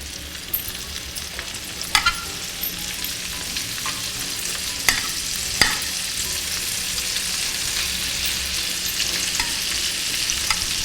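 Prosciutto-wrapped asparagus sizzles in a hot skillet on an indoor stove, a steady close frying hiss broken by occasional sharp pops and taps.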